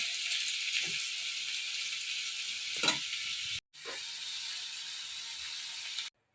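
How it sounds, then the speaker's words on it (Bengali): Steady sizzling of sliced new potatoes frying in a pan, with a few soft stirring clicks, continuing until it abruptly cuts off. "নতুন আলু একটু গোল গোল করে ভাজা করছি"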